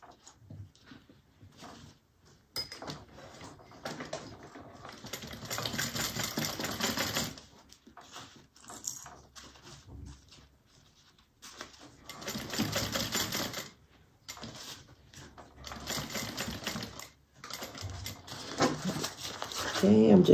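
A sewing machine stitches a satchel with a zipper pull in bursts of steady rattling, stopping and restarting between runs, with a voice talking during the pauses.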